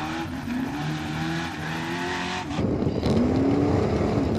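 Off-road race trucks at a Red Bull Straight Rhythm event rev and roar past, engine pitch climbing and dropping, then surging louder near the end.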